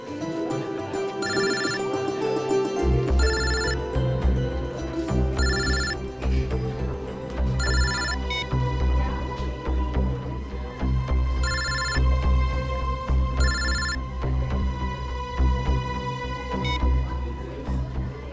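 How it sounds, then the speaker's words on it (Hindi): A mobile phone rings over and over, its bright electronic tone repeating in regular short bursts above a steady background of music, with no talk. "अरे किट्टू, कौन बार बार फोन कर रहा है?"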